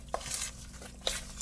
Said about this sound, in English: you do supposed to mix all the wet ingredients together first